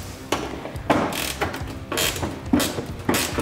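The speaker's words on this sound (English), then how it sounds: "right on the bottom here is another 10 mil bolt that we need to undo" Ratchet wrench working a 10 mm bolt loose under a Toyota Tacoma, with rapid clicking pawl sounds in several short close bursts.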